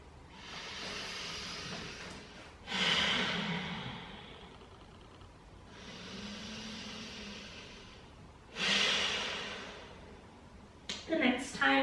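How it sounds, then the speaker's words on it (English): Slow, deep breathing during a guided mindfulness exercise, two long airy inhales each swelling over a couple of seconds followed by softer drawn-out exhales, close and quiet, with a brief rustle at the end. "2 more breaths here."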